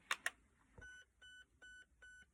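Two sharp clicks, then four evenly spaced short electronic beeps from an airsoft gun being programmed, fairly quiet and close with nothing else heard.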